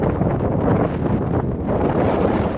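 Strong wind roars across an open field, buffeting the microphone in loud, continuous gusts with no voices.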